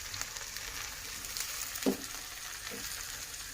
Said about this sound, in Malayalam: അപ്പം നമുക്ക് ഇങ്ങനെയും പൊരിക്കാം.